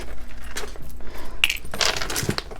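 Keys jangle inside a purse, giving a quick run of bright metallic clinks and rustles, close and fairly loud, with no speech over them.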